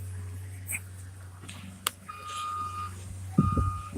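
Truck reversing beeps sound in repeated bursts while a load of gravel is delivered at a work site, with engine rumble underneath and no talking.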